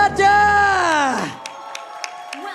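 Crowd at a Mobile Legends esports match in the MPL Indonesia league, Alter Ego versus EVOS, letting out a loud, sustained cheer with whoops and shouts that swells, then abruptly drops off into a quieter hall.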